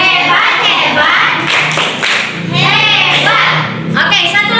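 Children in a church-themed classroom activity perform a rhythmic clapping chant, their voices chanting over claps and taps in loud, close bursts.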